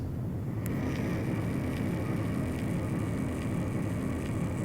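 Steady, loud low-frequency drone of Boeing 747 jet engines in the X-Plane flight simulator, a dense unbroken rumble with a faint whine on top and a few soft clicks running throughout, with no talking.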